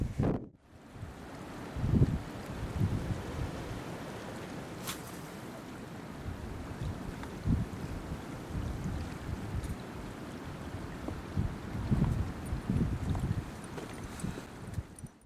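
Wind blows steadily on the bank of the Missouri River, rumbling against the microphone in uneven gusts for the whole stretch, with no talking heard.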